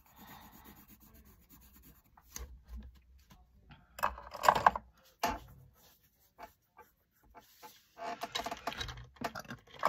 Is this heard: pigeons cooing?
no